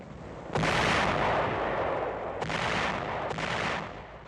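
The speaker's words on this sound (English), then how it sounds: "a 2-hour bombardment is concentrated on Lingayen Gulf's southern coast" Heavy artillery bombardment pounds the southern coast of Lingayen Gulf during a wartime amphibious landing, a dense, continuous roar of massed gunfire with three loud surging waves of blasts and rumble, close and overwhelming, no voices.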